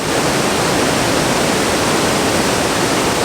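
A loud rushing brook trout stream in Baxter State Park, Maine, a steady, dense roar of moving water close by with no pauses.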